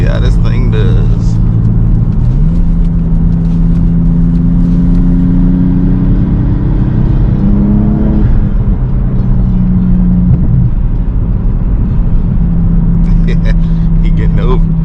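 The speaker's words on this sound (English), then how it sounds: "About to do a little pull, make sure no hose clamps blow off or nothing, but see how this thing does." A Toyota Aristo with a Greddy front-mount intercooler accelerates hard from inside the cabin, its engine loud and droning as the pitch climbs through the gears, with a voice talking over it.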